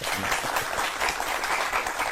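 An audience at a Hindi public speech claps steadily in dense, continuous applause, loud and evenly sustained throughout.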